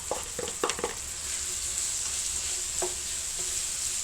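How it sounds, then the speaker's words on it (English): Onions sizzle steadily in a pot for Irish stew, with a few clinks and scrapes of stirring near the start. The frying hiss is close and continuous. "let's add our onions to this batch and get them started too."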